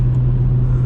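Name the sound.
BMW E46 car driving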